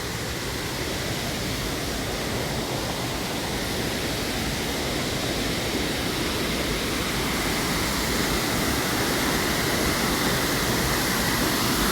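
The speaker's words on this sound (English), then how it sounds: "you come to the waterfall in Bedford" Water pours over a waterfall in Bedford, an unbroken broadband roar heard up close, steady and dense from start to end with no voices over it.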